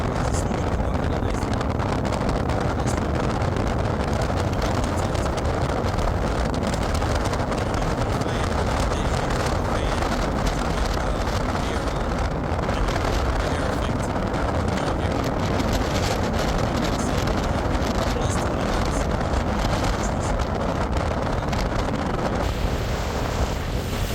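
Strong wind buffets the microphone on a boat ride to a sandbar, a constant loud roaring rumble mixed with water and hull noise that never lets up.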